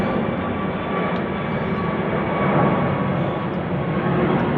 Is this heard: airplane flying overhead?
yes